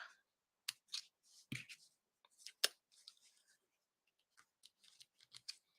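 Scissors trim the extra edge off a paper piece from a craft kit, a series of short, crisp snips and paper rustles in irregular bursts with quiet pauses, close and fairly faint, without speech.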